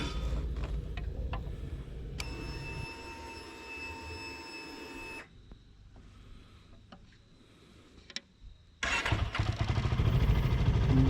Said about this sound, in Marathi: चला आधी बाईकला फुल स्टार्ट देऊ,